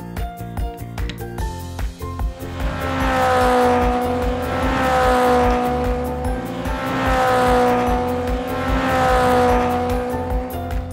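A race car's engine roars and whines steadily, rising and falling in pitch as it speeds along, loud and close, with no voices.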